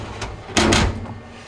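Twin French doors on a Gourmia digital air fryer oven swing shut with a couple of quick clunks, a faint knock first and then a louder double thud close by, in a quiet kitchen.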